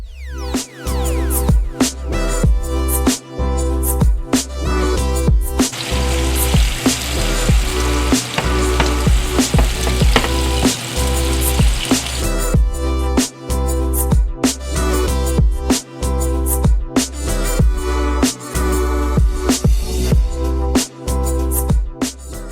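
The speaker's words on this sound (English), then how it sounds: "We'll be pan frying these meatballs" Vegan meatballs sizzle and crackle steadily in hot oil in a pan, close and loud throughout, with music playing underneath.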